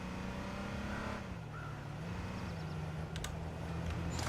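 A police car drives through an H1Z1 match, its engine hum steady and moderately close with a rising and falling pitch as it passes, plus faint tire and mechanical noises.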